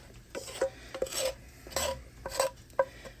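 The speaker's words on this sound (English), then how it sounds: "I'll just scoop it out with my spatula here actually" A metal spatula scoops cooked bacon from a pan, giving several quiet, close scraping and clinking strokes in an irregular rhythm.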